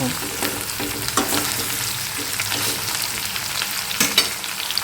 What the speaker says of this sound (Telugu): ఈ టమాటో వేసి చేసి కర్రీకి చక్కగా వేగాలి. మొత్తం మిక్స్ చేసేసుకొని మంచిగా ఫ్రై అవ్వడం.